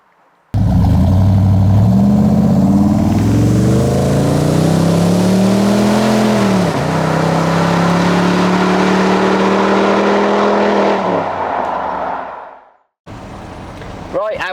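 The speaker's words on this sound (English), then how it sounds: "Even with small throttle input, we're picking up and accelerating up to," A twin-turbo 4.6 V8 Range Rover P38 pulls hard on the road, its loud engine note climbing steadily through the gears for about twelve seconds before cutting off, then briefly resuming.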